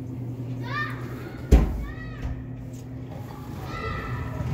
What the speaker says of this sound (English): I have some kids playing. Just running around.